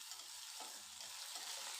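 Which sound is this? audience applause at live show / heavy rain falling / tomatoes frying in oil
tomatoes frying in oil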